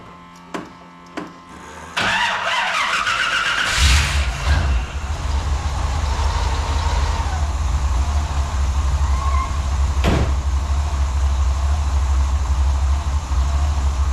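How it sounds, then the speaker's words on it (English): A 1959 Oldsmobile engine starts up after a few faint clicks. It cranks briefly, catches with a loud burst, then settles into a steady, rumbling idle close by. "let's fire it up and see what kind of readings we're getting"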